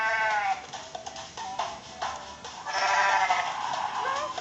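A goat in the video game Goat Simulator bleats in a long, wavering call, loud and close over faint game background sound, with no talking.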